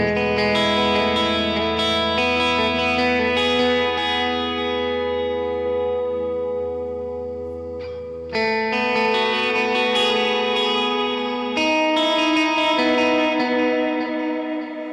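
Guitar chords ring out through an M-Vave Blackbox pedal's room reverb on stock settings, each strum leaving a spacious, room-like tail before the next one hits.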